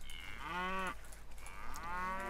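Two drawn-out moos from a cow in the Stronghold strategy game, each clear and close, with a short pause between them and a low hum underneath.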